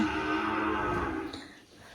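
Cattle moo inside a pen on a farm, a loud drawn-out low call in the first half that fades out, with no talk.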